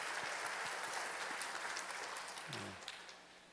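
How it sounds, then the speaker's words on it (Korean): A church congregation applauds steadily for a newly chosen church name, a dense even clatter of many hands that gradually fades toward the end, with a brief voice in the middle. "좋으시면 우리 박수로 주신 이름을 감사하겠습니다"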